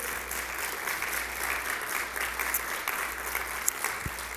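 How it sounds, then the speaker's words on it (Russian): Steady applause from a church congregation, sustained and moderately loud throughout, with no voices over it. "я бы попросил вас очень громкими аплодисментами пригласить нашу аудиторию"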